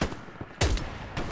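Bolt-action rifle fire in the World War II shooter Hell Let Loose on a desert map like El Alamein: one loud, booming close shot lands midway, with sharper, fainter cracks of distant gunfire before and after.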